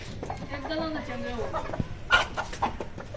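A chicken clucks repeatedly close by, short squawky calls mixed with rustling and a brief voice-like sound in the background.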